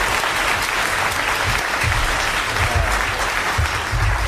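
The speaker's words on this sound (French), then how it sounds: "allez applaudir comme elle le mérite, Madame le Prieur, d'Agon-Coutainville." Steady, sustained clapping from an audience fills the whole stretch, dense and even with no voices on top.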